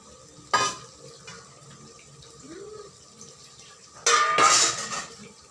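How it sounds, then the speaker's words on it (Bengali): Fried potatoes go into a pot of handi mutton with a sharp metallic clank, then a quiet pause, then a longer clatter and scrape of utensil against the pot, heard close up. "তো আমি ভেজে রাখা আলুগুলোকে এখন দিয়ে দিচ্ছি।"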